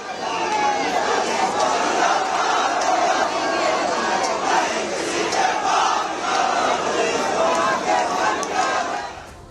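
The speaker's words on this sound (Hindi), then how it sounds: "तो प्रदर्शनकारी हिंदू अपनी आवाज बुलंद कर रहे हैं।" Loud, dense crowd of Hindu protesters shouting slogans at a street rally over a religious dispute in Sanjauli, voices massed together continuously with no pauses.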